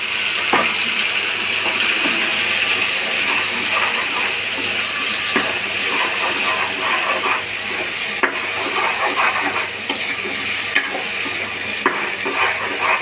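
Ginger, garlic and onion paste fries in a pan, giving a steady, close sizzle throughout with occasional light stirring clicks and scrapes, and no voices.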